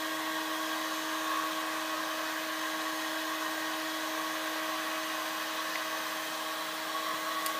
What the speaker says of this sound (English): That's our new little DC motor that we fitted a couple of days ago.